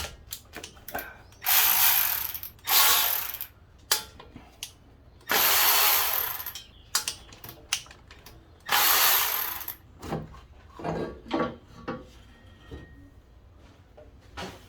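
A ratchet removes header bolts from a truck engine in a home shop. Loud bursts of powered ratcheting whir alternate with scattered clicks and clanks, close up and with no talking.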